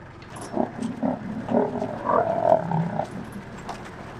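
Lions pass close by a safari vehicle at Lake Nakuru or Amboseli, letting out low, rumbling grunts and moaning calls in a short series, near and moderately loud over a quiet background.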